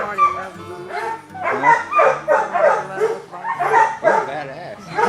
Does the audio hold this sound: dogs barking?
yes